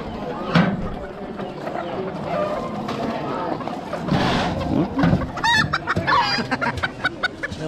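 Chickens clucking and at least two roosters crowing nearby at an Amish animal auction, with several overlapping calls and some background noise.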